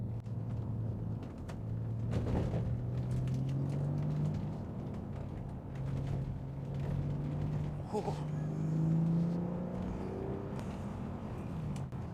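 A 2005 Bentley GT engine pulls in third gear with a steady low drone and rising harmonic pitch sweeps, the engine note climbing in several pulls and roughening near the top, close and loud with road rumble underneath.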